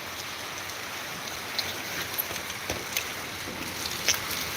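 Steady morning rainfall outdoors, a continuous even hiss with occasional louder drips and patters, fairly soft and without voices.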